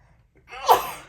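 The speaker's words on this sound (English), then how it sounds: "I'm going to sneeze." A single loud sneeze bursts out after a brief quiet moment, sharp at the start and trailing off.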